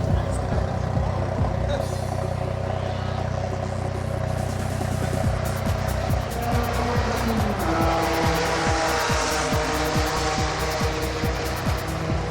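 A modified turbocharged car with Nismo LM type turbos, a tuned computer and Mines airflow meters runs hard on a circuit, its engine loud and continuous with tire squeal, while a voice talks over it.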